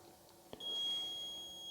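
Alarm clock buzzer at wake-up time gives a single sustained electronic beep, thin and steady, lasting about a second after a faint click.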